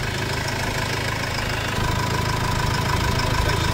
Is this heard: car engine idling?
yes